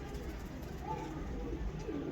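Soft, low pigeon coos from kept breeder birds murmur close by beneath a voice speaking over them.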